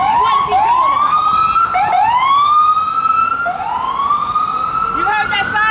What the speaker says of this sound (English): You heard that siren go by?